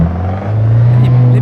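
Race cars in the Assetto Corsa racing game, a loud close engine drone whose pitch climbs and holds in a steady rumbling whir over a brief moment.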